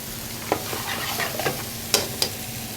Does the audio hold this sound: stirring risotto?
yes